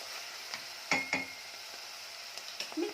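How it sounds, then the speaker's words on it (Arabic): Seafood soup being stirred in a pot, with soft scraping and a few sharper clinks of a utensil against the pot, close and fairly quiet, without speech. "هنفضل نقلب كده مع بعض لحد ما يدبل خالص كده"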